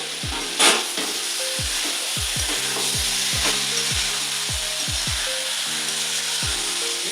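Mushroom curry sautéed in a pan after water is added, a strong steady sizzle with rhythmic stirring scrapes and a few sharp knocks against the pan, heard close with no talk.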